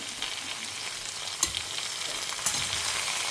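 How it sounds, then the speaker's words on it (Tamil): Cucumber and leafy greens sautéing in a pan for a Tamil cucumber kootu, giving a steady close sizzle with a couple of sharp spatula clinks and no voices. "இது இப்போ நல்லா வதங்கணும்."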